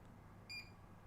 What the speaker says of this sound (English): Should make a beeping sound.